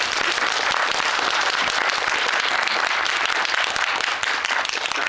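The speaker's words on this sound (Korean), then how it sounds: "큰 박수 부탁드리겠습니다" Steady, dense applause from a cinema audience at a post-screening film talk in a multiplex theater, continuous and loud throughout with no pauses.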